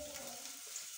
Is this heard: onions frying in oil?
yes